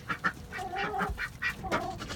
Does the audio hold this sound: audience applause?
no